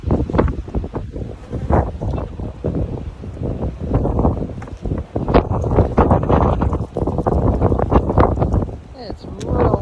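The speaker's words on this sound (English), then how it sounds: "It's real windy." Strong gusty wind buffeting the microphone outdoors during a beehive nuc installation, a constant loud roar in uneven bursts under people talking.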